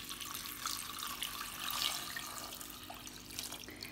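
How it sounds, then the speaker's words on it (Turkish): Water runs steadily in a broad hiss, pouring and splashing into a pot for several seconds without pause. "Üzerine 8 bardak suyum vardı. Onu ilave ediyorum."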